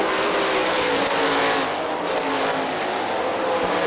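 Sprint cars race on a dirt oval at Hartford Speedway Park, a loud, continuous, high-revving engine roar close by that swells and dips slightly as the cars power through the turns.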